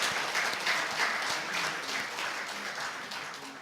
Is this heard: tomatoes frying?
no